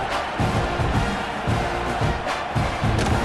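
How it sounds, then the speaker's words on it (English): Stadium crowd noise from the College Football 26 video game, a steady broad roar of a large football crowd with low murmuring swells, heard without any clear speech. "that last score took a little oomph out of this crowd"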